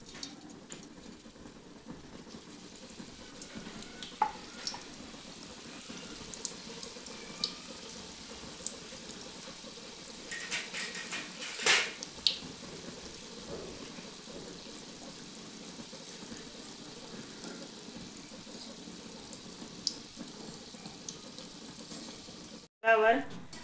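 Gulab jamun balls frying gently in oil over a low flame, a soft continuous bubbling hiss with faint scattered pops and a few clinks near the end, quiet and steady throughout.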